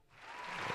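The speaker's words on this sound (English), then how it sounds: "give yourself a round of applause real quick" A short burst of clapping swells up from quiet to a steady patter of applause, faint and under a second long.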